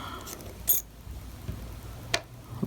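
A metal washer dropped onto the gear shaft of a modified Pixy RC car during a gear swap: a few small, sharp metallic clicks and taps close up in a quiet room, with no talking.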